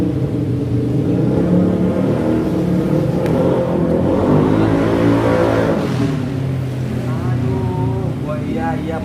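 A racing car engine from the Crash Bandicoot video game revs and drones continuously, with shifting pitch as it accelerates, loud and close throughout with no speech on top.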